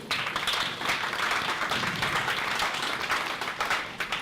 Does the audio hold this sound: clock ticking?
no